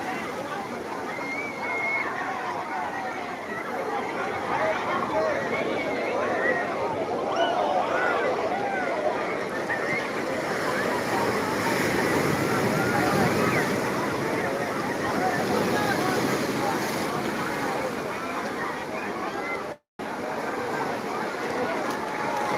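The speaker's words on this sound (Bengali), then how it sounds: "বিশাল বড় বড় ঢেউ" Big sea waves at Old Digha beach during the busy Eid holiday make a steady, loud broadband surf roar throughout, with voices faintly mixed in.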